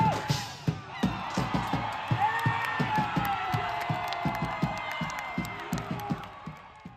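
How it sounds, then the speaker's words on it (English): Hundreds of patrons cheer, whoop and clap at a jousting event at the St. Louis Renaissance Festival, a dense, steady roar of crowd noise punctuated by sharp bursts of applause throughout. "What you're hearing is the sound of hundreds of patrons enjoying a jousting event during the St."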